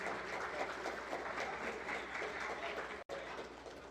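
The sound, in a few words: audience applause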